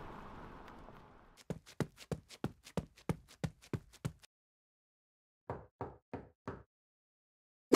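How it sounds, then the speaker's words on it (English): Knocking on a door in the Roblox game Bloxburg: a quick run of about ten crisp knocks, a pause, then four more, clear against near silence. "I think I just heard him knock on the door."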